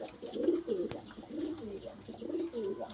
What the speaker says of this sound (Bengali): এটা পাঞ্জাবি এটা নর পায়রা।